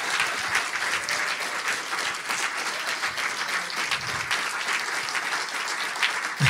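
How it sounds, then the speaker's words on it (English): An audience claps for the presenters at an arts and technology incubator demo day, a dense, even round of applause lasting several seconds with no talking. "let's get a round of applause for everybody who presented today"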